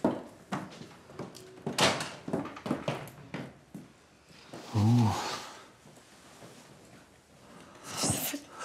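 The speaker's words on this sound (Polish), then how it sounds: "Zamykaj drzwi." A door is shut inside an apartment, heard as a series of sharp knocks and thuds with a loud, breathy vocal burst partway through.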